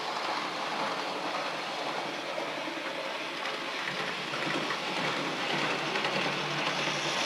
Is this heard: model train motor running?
yes